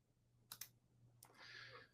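Mouse clicks on a slider in the properties panel of diagramming software: a quick double click, then another click followed by a brief soft rustle, all faint and close.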